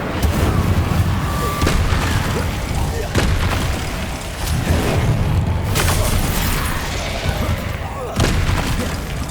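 Fiery Incendio spell blasts in the Hogwarts Legacy video game, a dense barrage of booming, crackling impacts recurring every couple of seconds over a loud, continuous battle din.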